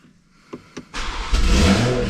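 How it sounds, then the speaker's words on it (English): A 2021 Toyota A90 Supra is started: two soft clicks, then the engine cranks and catches into a loud, close rev that settles into a steady, rumbling idle. "start the car"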